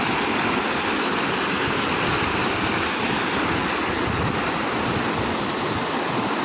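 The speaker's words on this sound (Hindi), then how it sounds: "बहुत ही तेजी से पानी आ रहा है ना यहाँ पे।" The Chandrabhaga river near Jhalrapatan flows fast and full, making a loud, steady rushing roar of water that fills the whole stretch without pause and without voices.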